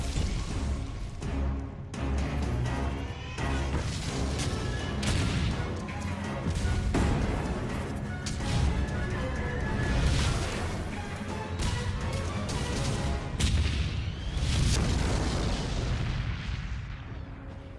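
Tank guns fire in a reconstructed Normandy battle scene from 1944, with heavy booms and crashing blasts rolling one after another over a continuous dense roar of combat.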